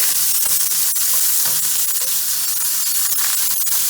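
Chicken skewers brown in a pan on a ring cooker with a loud, dense, continuous hiss and sizzle, close up and steady throughout, with no talking.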